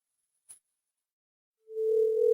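A phone line tone sounds during an unanswered call: a short faint click, a pause, then a steady pure electronic tone begins and holds loud to the end.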